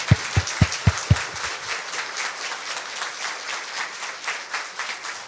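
Applause from an audience at a religious talk in Portuguese, opening with a few loud, sharp claps that fade within about two seconds into steadier, softer clapping that keeps going to the end.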